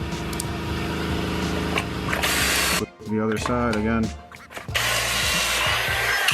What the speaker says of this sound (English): I pulled out my pocket jig, and I'm going to drill 2 holes